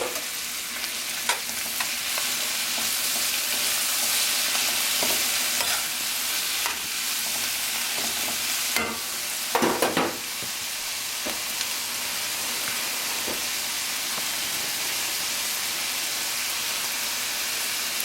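Three chopped plum tomatoes frying in a pan over medium-high heat for chickpea curry, giving a steady broadband sizzle with scattered stirring clatters and a louder scrape near the middle, no talk.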